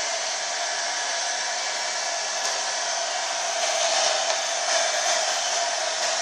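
A handheld hair dryer blows steadily and loudly at close range while drying a man's hair, a continuous broadband whoosh with slight shifts in tone as the airflow moves, and no talking.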